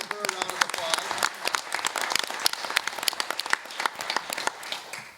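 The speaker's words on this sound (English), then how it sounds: "Let's give her a round of applause." An audience at a school board meeting applauds an educator, with dense, lively clapping from many hands that runs steadily for several seconds and tapers at the end.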